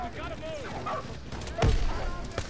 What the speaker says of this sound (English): there's freaking dogs in the start of the campaign